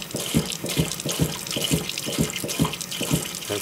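Water pours from a container onto a fig tree cutting in a cup, a close, steady splashing trickle with rhythmic glugs throughout.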